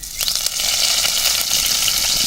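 Loud, steady sizzling and crackling of curry leaves dropped into hot oil after mustard seeds have popped, a bright hiss that swells quickly and stays constant.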